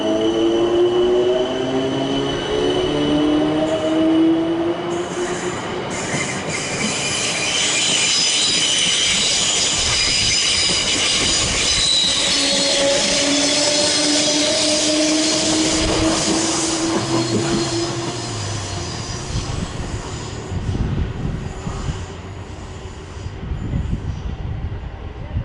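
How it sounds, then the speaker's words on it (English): A pair of Class 455 electric trains pass close by with a steady roar, rising and falling motor whine and squealing wheels, rumbling on throughout without speech. "pair of Class 455s with a service to Twickenham."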